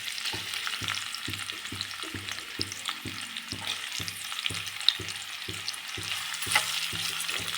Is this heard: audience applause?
no